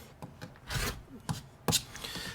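Rotary cutter slicing quilting fabric along a ruler for a square-in-a-square block, a few short scraping rolls with quiet pauses between them, close and alone.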